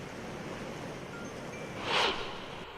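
Floodwater rushes through the swollen riverbed at Ramkund in Nashik, a steady broad roar with a brief louder surge near the end and no voices.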